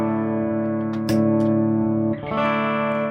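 An electric guitar with single-coil pickups plays through a WMD Arcane Preamp distortion pedal into an amp. One sustained, buzzy chord rings out, and a second chord is struck near the two-second mark.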